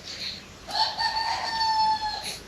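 A rooster on an olive farm lets out a single long, drawn-out crow lasting well over a second, fairly close and clear over a quiet background, with no one talking.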